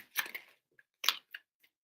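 Tarot cards being shuffled by hand, two short riffling bursts separated by a pause, with a few faint taps in between, close and quiet.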